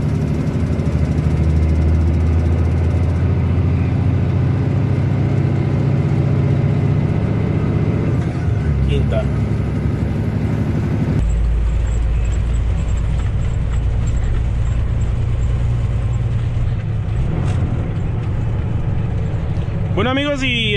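A loaded tractor-trailer truck pulls away uphill, its diesel engine droning loud and continuous throughout with low rumble, shifting revs as gears change, and a few squeaks and hisses near the end; a voice talks over it at times.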